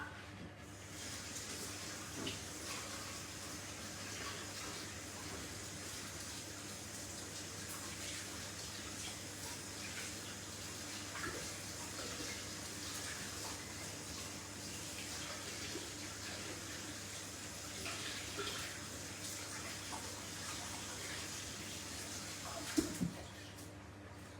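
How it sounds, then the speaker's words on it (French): Tap water runs steadily into a sink while hands are rinsed after pressing a savoury tart dough into a ring mould in a home kitchen, a continuous close gush lasting throughout with a brief clatter near the end. "Alors, je me rince les mains"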